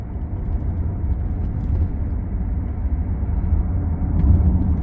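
A grey 2015 Land Rover Discovery Sport 2.0 TD4 HSE Luxury diesel automatic 4WD drives along a country road, heard from inside the cabin as a steady low engine and road rumble with slight swells and no talking.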